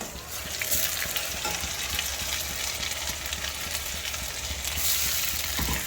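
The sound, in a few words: ground tomato added to frying onions in a pan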